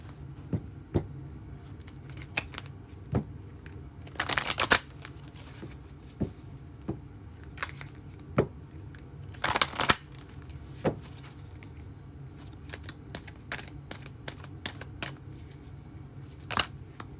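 Romance Angels oracle cards are shuffled by hand in soft, irregular pattering riffles, with two louder bursts of flicking cards amid quieter rustles and taps, heard close and without talk.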